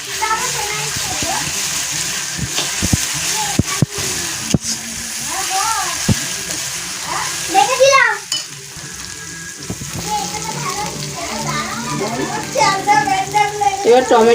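Spices with ginger and chili paste frying for mutton curry, a loud continuous sizzle with stirring and scraping in the pan, while people talk over it and a voice comes through.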